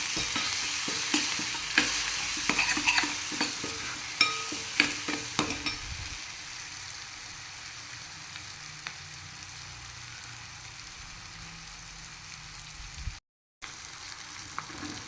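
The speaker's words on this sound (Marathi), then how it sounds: "हे चांगलं असे मसाले तळू द्यायचे याच्यामध्ये" Spices frying in oil in a pan for a Maharashtrian ridge gourd sabzi, with a close, steady sizzle and a run of sharp spoon taps and scrapes early on that settle into quieter frying, with a brief dropout near the end.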